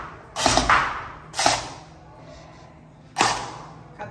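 Arrows shot at a target, three sharp whipping releases each ending in a thump, spaced about a second and then nearly two seconds apart, close and fairly loud over a quiet background.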